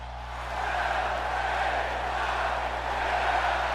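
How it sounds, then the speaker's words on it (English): A WWE arena crowd in Indianapolis roars for a megastar wrestler, a broad sustained wash of distant cheering that swells in after a moment and holds steady. "And the crowd is fully behind the megastar here tonight"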